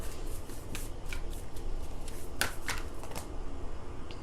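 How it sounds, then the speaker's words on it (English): Tarot cards being shuffled by hand, a close, dry riffling and flicking patter with sharp papery snaps scattered through, heard alone without talk. "So I'm gonna shuffle this again, because that wasn't nice."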